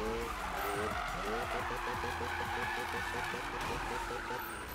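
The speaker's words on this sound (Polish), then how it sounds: "Zobaczcie, no pięknie driftuje, naprawdę bardzo ładnie trzyma linię" Mazda RX7 drifting in Need for Speed (2015), the engine droning steadily while the tyres squeal continuously through a long slide, close and loud, with a voice talking over it.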